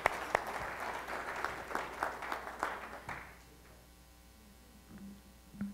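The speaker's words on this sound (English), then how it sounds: "let's clap for everyone before" Small audience at a live-streamed industry event clapping for a round of presenters, a moderate patter of hands that stops abruptly after about three seconds, leaving quiet room hum.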